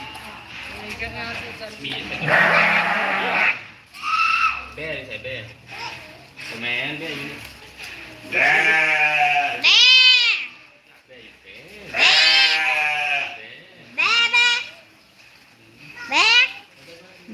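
Sheep bleat several times in loud, wavering calls, clustered in the second half and overlapping with ongoing conversation and children's voices nearby.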